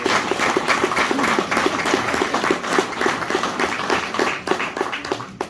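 A hall audience at a hunters' choir concert applauds a soloist with steady, dense clapping that holds at a moderate level, close and continuous throughout.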